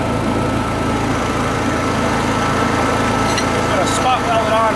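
A Honda 7k generator engine running steadily at close range, a constant droning hum throughout, with voices and brief clanks near the end.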